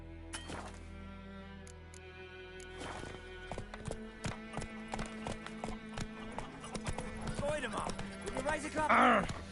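Roach the horse gallops in Witcher 3, rhythmic clip-clop hoofbeats with a neigh near the end, over game music with someone talking throughout.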